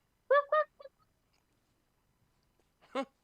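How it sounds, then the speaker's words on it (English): A rooster crows in short harmonic bursts, a quick pair then a faint third, followed by silence and one more loud crow at the end. "You hear a rooster."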